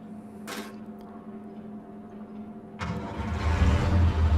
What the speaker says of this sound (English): Let's see if this tractor works.